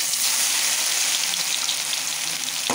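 A ground paste of green chillies, garlic and cumin hits hot oil and sizzles loudly and steadily, a close, continuous hiss with no voices.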